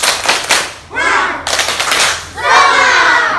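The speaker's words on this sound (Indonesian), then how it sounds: "Tepuk semangat." Elementary schoolchildren in an Indonesian classroom clap in rapid rhythmic bursts for a spirit clap, loud and close, with several dense volleys of claps and some voices mixed in.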